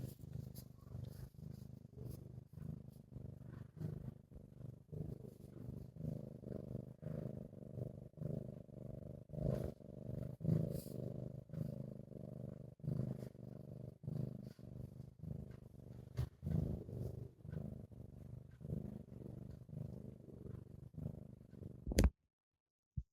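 A cat purrs close by in a steady, low rhythmic rumble of repeated breaths that lasts over twenty seconds and is fairly quiet. It ends with a brief sharp clatter.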